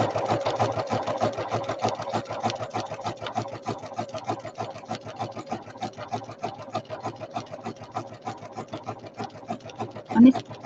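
A sewing machine runs steadily in a zigzag stitch across a fabric country-style placemat, its fast rhythmic needle chatter continuous and close, with a brief louder knock near the end.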